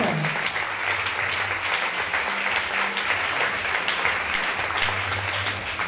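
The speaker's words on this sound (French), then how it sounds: "Put your hands together." Audience in a church applauding loudly and steadily, a dense continuous clapping that fills the space without pause.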